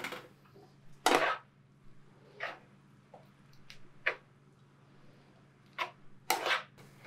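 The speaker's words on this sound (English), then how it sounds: "we're just going to take our rice noodles and add them right to the pan" Rice noodles going into a pan of cooked vegetables for a vegan dish, heard as a few soft, scattered clattering knocks and scrapes, quiet and spaced apart, with no talking.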